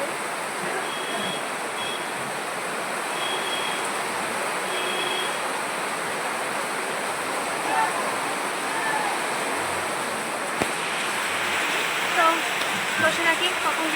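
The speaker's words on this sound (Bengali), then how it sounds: "স্কুলের সামনে পৌঁছতে না পৌঁছতে আবার বৃষ্টি পড়া শুরু হয়ে গেছে জোরে জোরে" Heavy rain pours steadily outside a school, a dense continuous hiss with a few faint knocks and spatters near the end, heard alone without voices.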